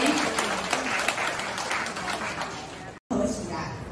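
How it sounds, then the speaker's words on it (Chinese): Audience applause at a community elderly art exhibition event, a sustained burst of many hands clapping in a hall, loud and continuous for several seconds with a brief cut before it resumes. "我们这次来掌声欢迎"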